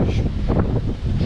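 Strong wind at sea roars over a sailboat running with reefed sail, a loud, continuous buffeting rush close to the microphone.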